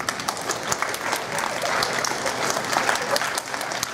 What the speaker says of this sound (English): I want to give them a big round of applause.